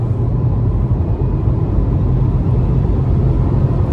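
A Dacia Duster TCe 130 accelerating hard in second gear from about 2500 rpm gives a steady, loud, close low engine drone with a dense rumble that runs unbroken throughout.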